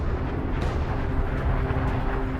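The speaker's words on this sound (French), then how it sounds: "Les couches extérieures sont expulsées en une explosion cataclysmique." A supernova explosion sound effect, a continuous deep rumbling roar with dense low-end energy that holds steady throughout, loud and without talk.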